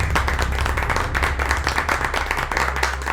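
A crowd applauds a speech at a business meeting, steady loud clapping from many hands, with a low hum underneath throughout.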